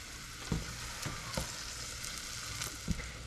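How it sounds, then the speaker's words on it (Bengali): Garlic frying in oil for a salmon bharta sizzles steadily and close, with a few soft stirring knocks breaking through the hiss. "রসুনগুলো মোটামুটি ভাজা হয়ে গেছে, একটু ভালোভাবে ভাজা হবে রসুনগুলো, লাল লাল করে।"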